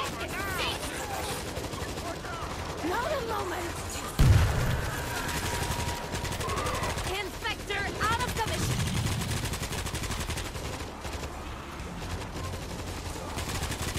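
Automatic turrets fire steadily in the zombie shooter World War Z, a dense, continuous rattle of gunfire with one heavier boom, while voices talk over it.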